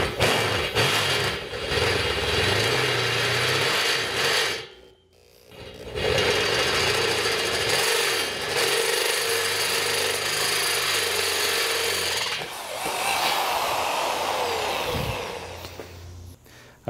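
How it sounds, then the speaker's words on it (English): An electric drill that is not variable speed bores a 5/8 inch hole in metal, a loud, steady grinding whine that runs almost without break, dipping briefly near five seconds and again near twelve. "This is not really a variable speed drill."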